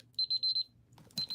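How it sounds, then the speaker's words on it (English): A kitchen timer alarm goes off in short bursts of high beeping, four quick beeps, a pause with faint background noise, then more beeps starting again. "while the timer goes off"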